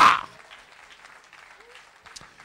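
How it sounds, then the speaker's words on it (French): A church congregation claps during a French-language sermon: a loud burst right at the start quickly drops to faint, scattered clapping that carries on in the background. "Applaudissez, applaudissez"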